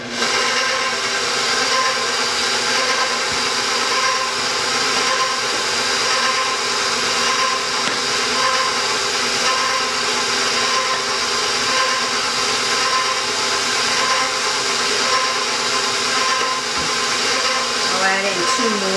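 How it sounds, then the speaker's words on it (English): A stand mixer kneading cheesy pepperoni bread dough with flour being added, a steady continuous motor whir running throughout at constant loudness, with a person talking faintly over it. "I'll start my mixer."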